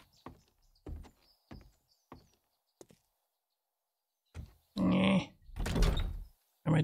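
Door pulled shut in the video game 7 Days to Die: a few soft knocks and clicks, then a louder thudding close and scrape near the end.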